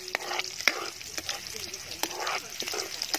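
Onion sautéing in oil in a pan for pansit bihon with sardines, a close, steady sizzle broken by scraping stirs, with a voice talking over it.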